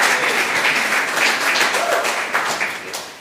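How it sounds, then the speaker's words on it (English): An audience at a beauty panel event in New York City applauds a guest, a full sustained round of clapping with scattered cheers that begins to thin toward the end. "Can we give her one round of applause, please?"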